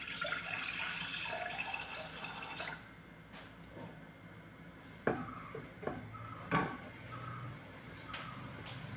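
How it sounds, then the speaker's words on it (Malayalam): Milk is poured into a cooking pan for a plantain and milk dish, a faint, soft liquid splash with a few light clinks against a quiet kitchen background. "ഇനി ഇതിലേക്ക് എടുത്തു വെച്ചിരിക്കുന്ന പാൽ ഒഴിച്ചു കൊടുക്കാം"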